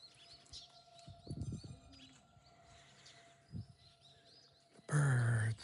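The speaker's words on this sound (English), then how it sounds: "The birds." Birds chirp and coo around the grounds of Iwadera, temple number 8 on the Owari 33 pilgrimage, light calls scattered over a soft breeze, with a louder burst of fluttering or close calling near the end.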